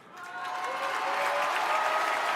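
Audience applause at a Jean-Luc Mélenchon political rally in Saint-Denis, swelling quickly into a loud, dense crowd clap with cheering tones rising through it.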